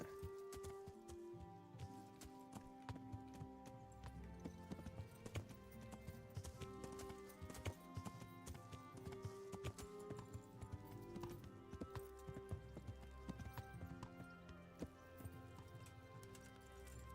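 Horse hooves clip-clopping steadily in Kingdom Come, a continuous rhythmic trot heard up close over a busy layer of game music and ambience, with no talk.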